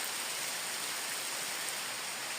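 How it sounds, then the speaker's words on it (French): Steady rain falling outdoors on a pilgrimage trail in October, a dense continuous hiss of drops with no breaks, fairly close and uniform, with no voices. "la pluie semble se calmer"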